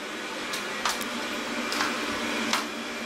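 A household vacuum cleaner runs indoors with a steady, moderately loud whir, broken by a few short clicks and bumps.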